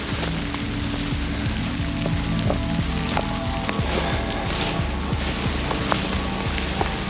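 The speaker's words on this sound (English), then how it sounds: "now it's starting to rain." Rain beginning to fall beside a creek line in bushland, a steady broadband hiss with scattered light patter and a few sharper drops, continuous and moderately loud throughout.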